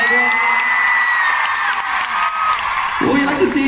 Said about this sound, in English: Give her a round of applause, Kang Daniel.